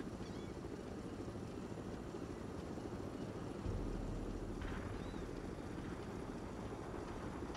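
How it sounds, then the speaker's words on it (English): A heavy helicopter in a video game gives a steady, dense rotor and engine drone that fills the whole clip without pause, with a brief tonal blip partway through. "直升机耶。"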